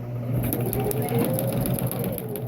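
A sewing machine runs steadily at a short stitch length, a close, even mechanical whir with a quick rhythmic needle tick throughout, heard on its own without talk.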